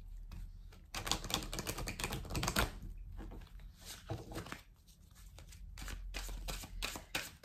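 Persian tarot cards are shuffled and drawn by hand, giving a soft, close, papery riffle and flutter in uneven bursts that sometimes pause, with no voices.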